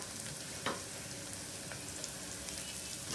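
Ginger garlic paste sautés in a hot pan, giving a steady, even sizzle throughout with a couple of faint clicks from the utensil, and no voices.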